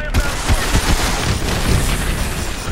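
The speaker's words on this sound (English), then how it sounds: "Lock onto those hard points and hit them with your missiles." Loud booming missile strikes and explosions in Call of Duty Advanced Warfare, dense rumbling impacts layered with gunfire and a faint voice beneath.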